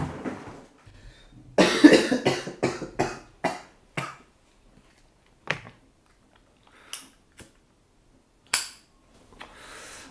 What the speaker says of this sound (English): I still haven't been able to get rid of this cough.